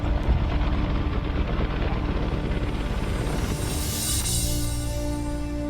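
A Chinook heavy-lift helicopter of the Indian Air Force at the high-altitude Nyoma advanced landing ground, a continuous loud rotor and turbine roar with a rising whine toward the end.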